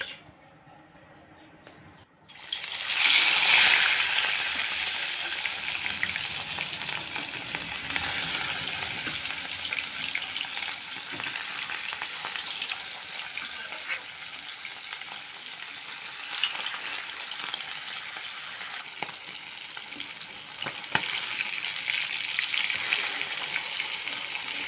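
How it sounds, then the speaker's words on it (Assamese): Pieces of marinated fish fry in hot oil in a wok, starting with a sudden loud sizzle as they drop in, then a steady dense crackle with occasional spatters for a long stretch. "এতিয়া মাছ কেইপিচ ভজা হৈ গৈছে"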